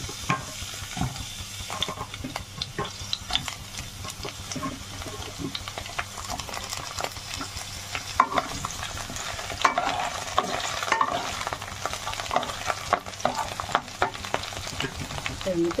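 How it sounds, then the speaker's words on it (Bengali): Cauliflower and potatoes frying in hot oil in a pan: a steady soft sizzle with intermittent stirring scrapes, close but fairly quiet. "তেলটা গরম হয়ে গেছে, এবার আমি কফি আর আলুগুলো ভেজে নেব।"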